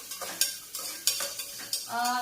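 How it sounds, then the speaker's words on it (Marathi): Vegetables for baby food frying in a pan, a close hiss and sizzle broken by a few quick stirring scrapes of a spoon, with no talk. "भाज्या फ्राय करून मग त्याच्यात पाणी टाकणार आहे।"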